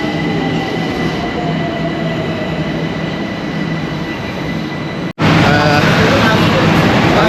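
Metro train ride in Tehran, a loud steady rumble and rush of the moving carriage with faint squealing wheel tones, briefly cut then resuming at full loudness.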